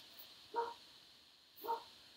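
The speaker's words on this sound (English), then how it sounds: "You can hear my puppy in the background." Two short, soft barks from a puppy, spaced about a second apart, faint and distant over a steady background hum.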